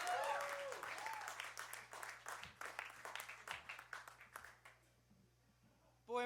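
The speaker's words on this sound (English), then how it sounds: "One round of applause for George Ham, a good friend of mine." A stage audience at Holocene applauds, starting loud with a whistle and gradually thinning into scattered claps before fading, then a sudden loud burst at the very end.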